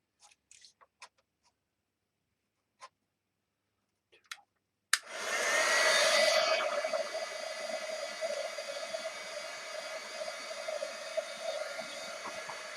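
After a few faint taps and rustles, a hair dryer blows steadily over freshly worked journal pages, switching on abruptly and holding a loud, even whoosh with a constant motor whine until the end.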